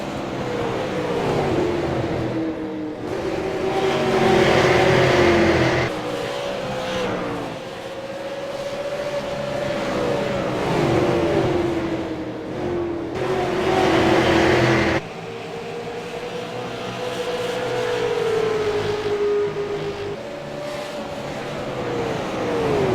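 Super late model race cars roar around Richmond Raceway, their engines loud and close as the pitch repeatedly climbs and drops with cars accelerating and sweeping past, one pass after another with no voices.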